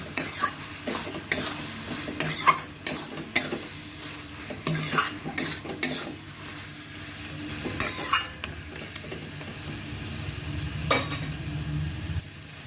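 A utensil stirs sugar into cabbage cooking with fish head in a pan, a series of irregular scraping clinks over a soft steady sizzle, close and moderately quiet with no voices.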